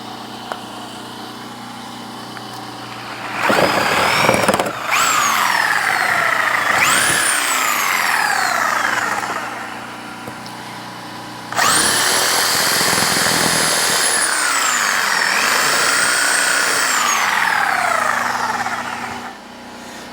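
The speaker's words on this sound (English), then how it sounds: "take a jigsaw, or in my case a sawzall, after getting all the pieces removed" A reciprocating saw cuts during cabin plumbing, stair and drywall work, in two long loud bursts of motor whine that rise and fall in pitch under load, separated by a brief lull, very close.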